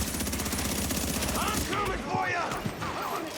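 Rapid automatic gunfire rattles in quick bursts during a shooting video game, loud and dense at first, then thinning into scattered shots and impacts.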